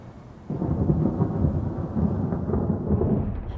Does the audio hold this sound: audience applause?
no